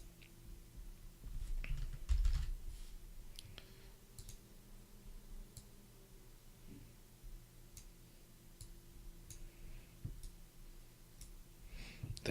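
Computer keyboard typing during a game development session, scattered light clicks and taps spread across the clip, fairly faint against a low background hum with no speech.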